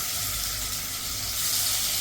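Rohu fish frying in hot oil in a wok, a loud continuous sizzle that stays steady and close throughout.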